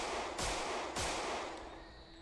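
Two sharp gunshots from a video game ring out about half a second apart, loud and close over a constant hiss of game background noise, with no talking.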